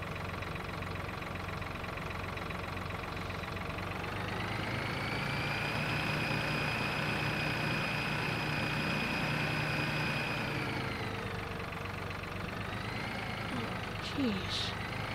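A small tractor engine in Farming Simulator 15 idles steadily with a constant low rumble throughout, a faint higher whine riding above it, and brief clunks near the end.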